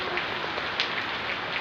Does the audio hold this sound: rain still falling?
yes